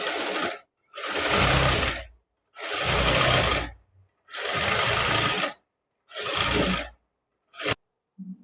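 A sewing machine stitches a prince-cut blouse, with five loud, close bursts of rapid mechanical whirring separated by short silences.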